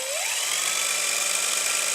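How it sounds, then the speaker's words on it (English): A handheld power drill whines steadily while boring holes, its pitch rising at the start and then holding a continuous high buzz for the whole stretch, close and loud with no talking. "I'll just drill holes around this whole area here, I guess."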